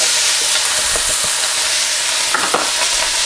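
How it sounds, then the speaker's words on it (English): Vegetables and pineapple chunks frying in smoking-hot oil for sweet and sour chicken give a loud, constant sizzle and hiss, with a few sharper crackles and stirring knocks breaking through. "So we've got that oil smoking nicely. In goes all of the veg and the pineapple chunks."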